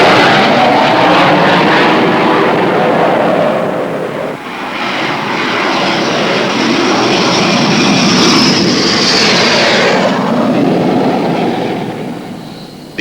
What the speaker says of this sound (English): The English Electric Lightning is an all-weather day and night aircraft, designed primarily for high-level supersonic interception.